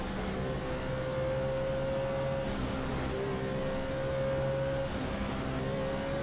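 Simulated race car engines in the iRacing game at Talladega, a steady droning engine tone with layered cars running together, sustained and fairly loud throughout without talk.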